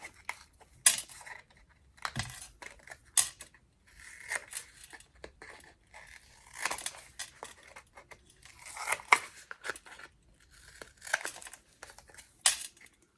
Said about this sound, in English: just going to do our little notch snips